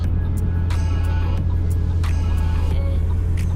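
A Lamborghini engine idles and drones steadily from inside the car at a traffic light, a loud low rumble under occasional clicks and cabin noises.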